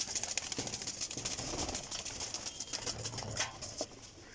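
Sialkoti black-faced pigeons are kept at a breeder's loft, and soft cooing and rustling fluttering sound close by over a dull background murmur, with no speech.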